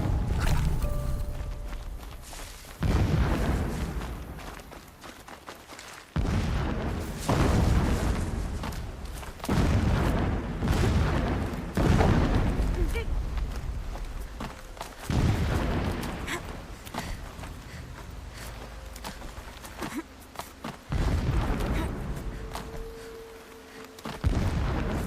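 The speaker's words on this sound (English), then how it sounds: "Explosions in the distance." Repeated deep booms of distant explosions in the video game Horizon Zero Dawn, each a sudden heavy blast with a long rumbling decay, arriving every few seconds over a continuous low roar.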